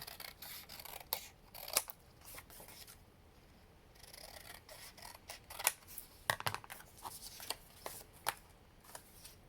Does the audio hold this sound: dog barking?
no